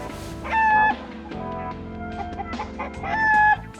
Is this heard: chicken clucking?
yes